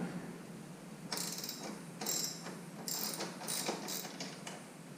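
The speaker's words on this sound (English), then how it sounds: "Again, remove this bolt." A ratchet wrench removes a bolt from a 2018 Honda Goldwing Tour DCT motorcycle, clicking in several short bursts of fast, crisp pawl ticks, close and fairly quiet, with no talking.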